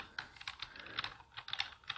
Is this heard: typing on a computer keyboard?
yes